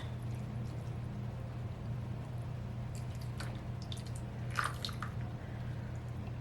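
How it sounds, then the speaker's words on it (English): Lye and water mixture poured into soap-making oils for a pink Himalayan sea salt soap, a faint wet trickle and a few squishy drips over a steady low hum, with no talking. "my lye and water mixture is being poured into the oils"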